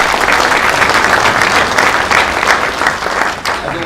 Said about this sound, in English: I'd like to, if I wouldn't mind, having you applaud their support.